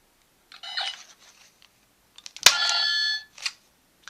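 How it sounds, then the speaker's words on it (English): Clicks and a short electronic chirp, then a sharp click followed by a bright, buzzy phone ring sound effect from a Tenku Keitai GripPhone toy that sounds briefly before cutting off. "Three is a phone ringing."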